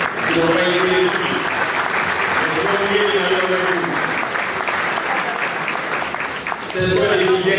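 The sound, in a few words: audience applause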